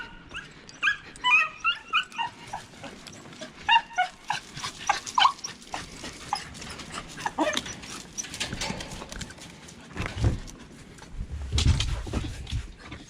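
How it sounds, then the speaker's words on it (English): Beagles on an early-season rabbit and pheasant hunt in Pennsylvania, heard up close as scattered excited barks, yips and whimpers, followed by rustling and thuds of movement nearby. "They're up there jumping around, letting out some barks."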